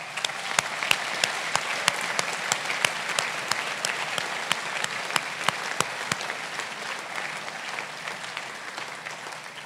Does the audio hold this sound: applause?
yes